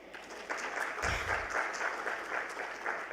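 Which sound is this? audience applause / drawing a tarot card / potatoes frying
audience applause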